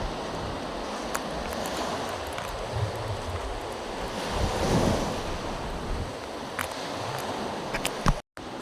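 Water rushes and churns steadily along a river as people walk toward it to find a boat, with a broad, continuous wash and wind buffeting close to the microphone.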